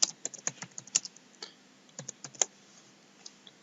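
Computer keyboard typing a CD name in disc-burning software: a quick, irregular run of crisp, close keystrokes with short pauses, no voices.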